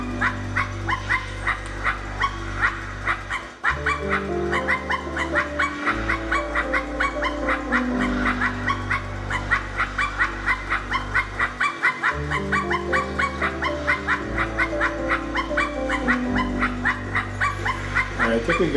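Dog barking with sniffing in the video game I Am Dead, set against a steady musical score that runs the whole time; the barks and sniffs come as short yips and whimpers under the music.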